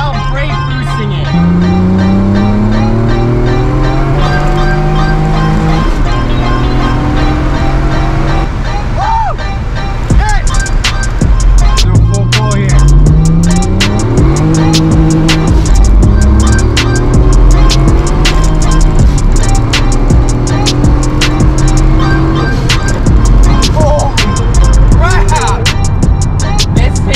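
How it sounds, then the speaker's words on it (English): Tuned V6 car engine loudly revving and pulling hard through third gear while brake boosting, rising and falling in repeated sweeps, with a voice talking over it. "third gear pull while brake boosting it"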